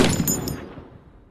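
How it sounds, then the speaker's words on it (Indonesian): A single loud sniper rifle shot from the war film The Hurt Locker cracks sharply, then its echo decays for about a second. "Sanborn dan Will langsung mengambil alih sniper dan saat tembakan pertama"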